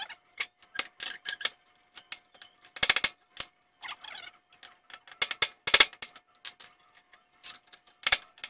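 Old U-joint being worked out of a drive shaft, irregular metallic clicks, taps and scraping knocks in uneven bursts, close by with no speech.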